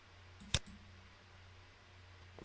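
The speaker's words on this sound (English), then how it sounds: "Click Continue." One crisp computer mouse click, sharp and close, standing alone against a faint steady hum in a quiet room.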